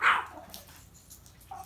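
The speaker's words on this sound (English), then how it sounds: "Just because we say hi doesn't mean that you guys have to bark at everything" Dogs on a wet Sunday group walk give one short, loud bark at the very start, followed by quieter rustling and a faint higher yelp near the end.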